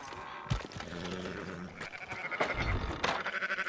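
Sheep bleat in a Red Dead Redemption II livestock scene, several wavering calls over a busy in-game background of shuffling and ambience, moderately close and mid-level in loudness.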